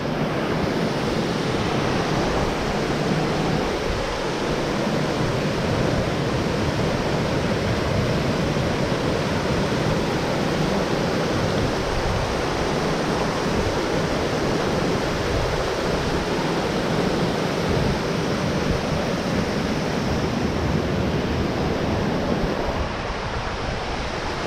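A waterfall near an outdoor cooking spot in 18 degree weather roars as a steady, dense wash of rushing water, loud and continuous with no breaks, plus some wind buffeting.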